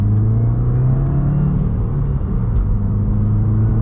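A 2022 Subaru WRX engine holds its revs in a steady, close, droning rumble that dips briefly midway, heard from inside the car with no talking.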